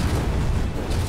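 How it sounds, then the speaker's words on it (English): Gunfire and explosions in a survival video game: a dense, loud rumbling roar of blasts and shots filling the short moment without any voices. "Oh, gunfire."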